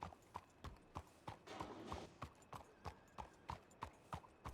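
Video game horse hooves clip-clop in a steady, even rhythm, about two strikes per second, fairly quiet, with a brief softer rustle in between.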